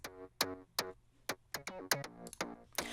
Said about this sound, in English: I have another layer here, which I call the bass click